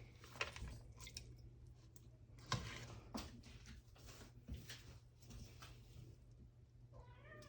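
Cats meow and mew in a home kitchen, with short cries scattered over several seconds amid soft chewing and squishy eating noises, fairly close and quiet.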